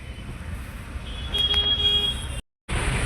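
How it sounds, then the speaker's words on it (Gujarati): Steady roar of city road traffic in Ahmedabad with a sustained horn toot midway, then a brief dropout before the traffic noise resumes. "આપણું અમદાવાદનું ટ્રાફિક સરસ મજાનું છે"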